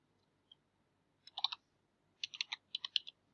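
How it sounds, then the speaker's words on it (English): Short bursts of keystrokes on a computer keyboard while an IP address is entered, quiet, close clicks in three quick clusters with brief pauses between. "just type the IP address of Wazuh manager"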